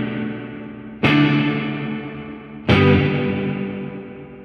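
An electric guitar played through a hall reverb pedal with the mix turned way up: two strummed chords strike sharply and ring out in long, washy decaying tails.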